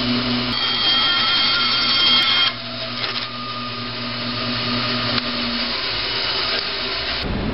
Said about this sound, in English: Next, I'm using a bandsaw to cut the bottom parts of the holes straight.